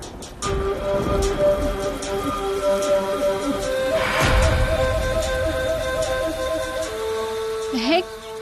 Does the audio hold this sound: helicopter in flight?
no